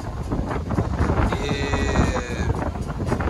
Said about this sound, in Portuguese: o vento aqui tá forte, né?